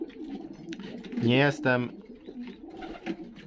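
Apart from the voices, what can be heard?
homing pigeons cooing in a loft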